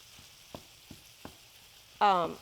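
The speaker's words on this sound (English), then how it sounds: "We've got just some ground chuck that I'm browning up" Ground chuck browns quietly in a pan with a soft sizzle and a few light clicks of stirring, and a voice speaks briefly at the end.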